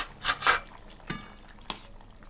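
Fried fish pieces go into a potato and pointed gourd fish curry to simmer, giving a few soft splashes and stirring clinks up close, then a quiet bubbling with short utensil taps.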